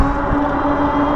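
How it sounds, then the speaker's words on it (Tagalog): Steady electric motor hum from a Coswheel T20S pedal-assist e-bike while riding, a continuous even drone with a faint tonal whine, close and fairly loud, with no talking. "Narinig mo agad yung ano eh, yung huni ng motor."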